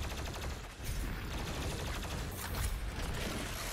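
Rapid, continuous gunfire from the DOOM Eternal video game fills the whole stretch, loud and dense with weapon blasts overlapping one another.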